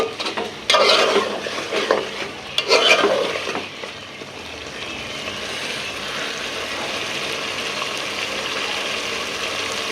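Gourd greens (lau shak) cooking in a pan with brinjal and large rohu fish oil, stirred with a few scraping clatters early on, then a steady soft sizzle continuing alone.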